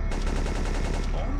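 Sniper rifle gunfire in the video game Siphon Filter 3, a loud, dense burst of rapid cracking shots that fills the whole moment.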